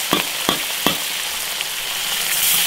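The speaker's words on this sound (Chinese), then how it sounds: "把鱼头煎黄就行了。" A fish head fries in an iron wok with a steady, close sizzle, punctuated by a few sharp clacks of stirring near the start, with no talking.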